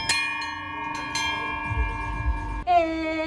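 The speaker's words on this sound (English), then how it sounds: "I celebrated my new PB by ringing the bell." A bell rung after a finish at the Copenhagen Marathon, struck a few times with sharp metallic clangs that ring on, followed by a short shout.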